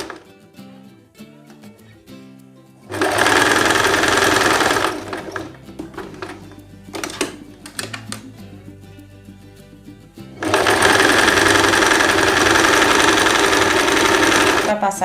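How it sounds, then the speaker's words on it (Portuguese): A sewing machine stitches the waistband of a dress in two loud, sustained runs, with a quieter stretch of handling and someone talking in between. "Você vem costurando essa parte do seu cinto, do cintinho, da faixazinha que tem aí."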